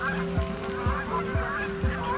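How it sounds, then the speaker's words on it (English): Geese honk in short, repeated calls that overlap in a steady chorus, suggesting a very large flock gathered on ponds, heard from a moderate distance. "Thousands and thousands of geese."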